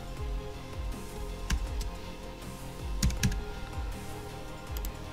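Keys clack on a computer keyboard in short irregular bursts of typing, close and fairly quiet over a steady low background hum.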